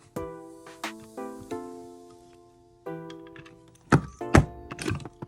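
A paper door hanger gets holes punched in it: squeaky tonal creaks, then a few sharp, close thunks as the punch presses down.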